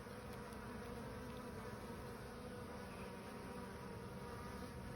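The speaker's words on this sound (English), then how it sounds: "there's always the worker bees or scout bees going around just to make sure everything's okay" Honey bees buzzing around a hive of Buckfast or Irish Black bees, a faint, steady layered drone of many insects with no pauses and no voices.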